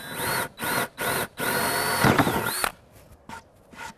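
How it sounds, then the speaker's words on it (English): Power drill boring a hole in wood: several short bursts of a high whining motor, then one longer sustained run that cuts off, followed by a few faint brief taps. "I'm just going to drill a hole near the edge of my circle."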